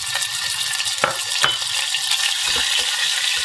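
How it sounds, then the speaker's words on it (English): Sirloin meat trimmings fry in a pan with a steady close sizzle, broken by a few clinks and stirring scrapes. "then fry off a bit of meat that I cut off"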